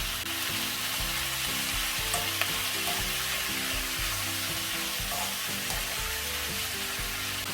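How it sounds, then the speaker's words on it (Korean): Pork with mirin and sugar stir-fries in a pan, making a loud, dense and unbroken sizzle with faint scraping from stirring underneath it. "맛술과 설탕을 먼저 넣어서 잡내도 잡고 단맛이 먼저 배이도록 볶아줍니다"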